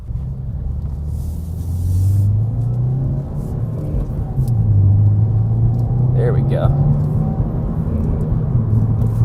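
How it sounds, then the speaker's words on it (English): A low engine drone and exhaust rumble heard from inside a 2018 Subaru WRX, rising and falling in pitch as it revs, with a short spoken remark over it. "I can still hear the exhaust, I can still hear that nice engine"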